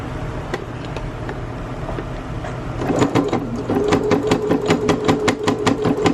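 A sewing machine runs steadily, stitching a dress lining, its rapid mechanical chatter starting partway through and continuing loud and close over a low background hum.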